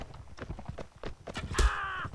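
Horses gallop in the video game Mount&Blade: Fire and Sword, with a quick, rhythmic drumming of hooves, close and fairly loud, and a short whinny-like tone near the end.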